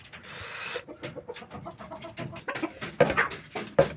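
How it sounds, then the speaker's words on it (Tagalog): Chickens clucking on a farm, heard as several short, close clucks and calls scattered irregularly over steady rustling background noise, with no talk. "Yan yung manok ni Krishna."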